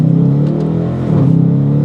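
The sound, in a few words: 2020 Dodge Challenger 5.7 liter V8 Hemi at full throttle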